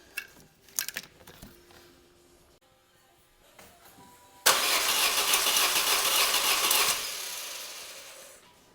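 A 1994 Saturn engine with the coil pack wires pulled cranks on the starter without firing, a steady loud whirring churn lasting a couple of seconds after a few clicks and clunks of handling.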